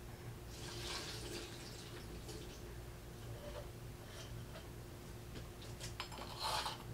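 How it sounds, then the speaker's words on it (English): Water from a bean-sprouting jar dumped out through a small strainer lid into a sink, a soft trickling and splashing with a few brighter splashes near the end, fairly quiet and close, no talking. "So I'm just going to go ahead and put on the top here and just dump all the water out."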